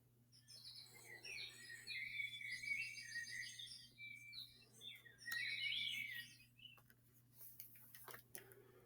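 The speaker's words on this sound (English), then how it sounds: "more and more birds join in with the song" Several birds sing and chirp together in a garden on a warm morning, overlapping, busy phrases, faint and distant, over a low steady hum, with a few soft ticks.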